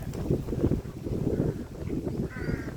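Strong wind blows at the waterside near a pipe outlet, producing a continuous low rumbling buffet across the microphone. It keeps up without pause, with faint bird calls just audible in the background.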